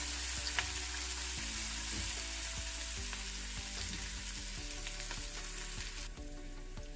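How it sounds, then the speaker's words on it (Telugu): Onions and garlic frying with turmeric in a pan, a loud continuous close sizzle with occasional soft stirring scrapes, no speech. "ఒక 1/2 స్పూన్ వరకు పసుపు వేసి ఉల్లిపాయలు కొంచెం కలర్ వచ్చే వరకు వేయించుకోవాలి."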